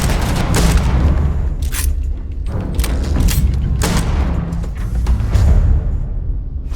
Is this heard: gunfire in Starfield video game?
yes